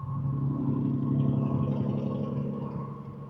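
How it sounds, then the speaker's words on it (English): A loud truck rolls past on the road, a heavy continuous rumble with steady engine drone that holds strong throughout without fading. "Loud truck."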